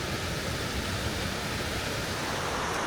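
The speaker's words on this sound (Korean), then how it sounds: "시원한 물줄기를 내뿜고 있는 웃음폭포입니다." Powerful gushing water roars without pause, a thick wash of sound as if standing close to a waterfall; Laughing Falls in Yoho National Park, Canadian Rockies, water bursting from a rock cleft.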